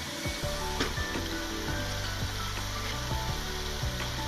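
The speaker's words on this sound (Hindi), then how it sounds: "2 मिनट इसको करेंगे फ्राई और इसमें मैं हल्का सा सॉल्ट ऐड कर दूँगी।" Tomato puree gravy with chili, turmeric, chicken powder and salt frying in a pan gives a soft, steady sizzle with faint stirring scrapes, quiet and close.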